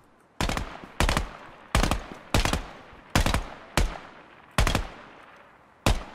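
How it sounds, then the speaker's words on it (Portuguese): Gunfire in the video game Ground Branch: eight loud, sharp single shots spaced at uneven intervals, each ringing off with a short echoing tail, no talk. "Quem tá atirando aqui?"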